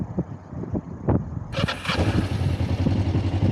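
Kawasaki Ninja 500r motorcycle engine running outdoors, a low steady rumble with clattering and a sudden surge of wind buffeting noise partway through, close and fairly loud.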